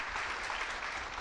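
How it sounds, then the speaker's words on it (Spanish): A church congregation applauds during a worship service, a steady dense wash of clapping from many hands throughout, fairly soft and even, with no voices standing out. "Dele fuerte el aplauso al Señor."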